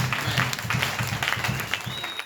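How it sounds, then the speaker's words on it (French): A church audience applauds warmly after a psalm reading, steady dense clapping with faint cheers throughout, close and loud. "Est-ce qu'on peut acclamer pour ce psaume?"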